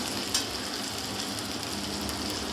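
Chopped tomato being stirred and fried in spice paste, cooked without water: a steady, even sizzle close by, with a faint utensil knock near the start.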